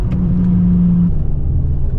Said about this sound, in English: I'm gonna downshift, 4th. It's seriously just blipping the throttle.